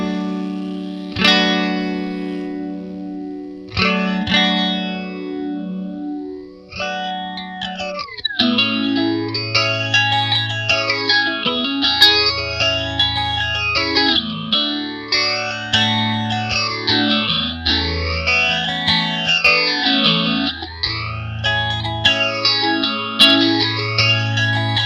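Electric guitar runs through a PastFx clone of an Electro-Harmonix chorus and vibrato pedal, opening with a few ringing chords, then strummed chords with a deep, regular pitch-wobbling sweep, loud and close with no talking.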